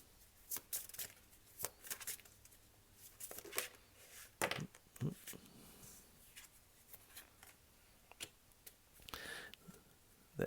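An oracle card deck, the Wisdom of the Buddha set, is shuffled by hand, giving repeated soft papery riffles and flicks in irregular bursts, close and quiet, with no voices.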